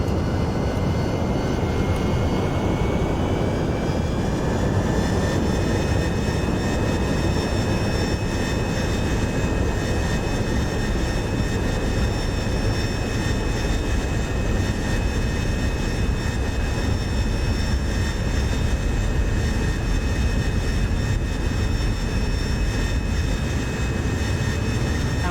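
Jet aircraft engines with afterburners roar in a DCS combat flight sim set in the 2001 Afghanistan war, a loud continuous rumble with a rising whine that settles into a steady high tone and holds for the whole stretch.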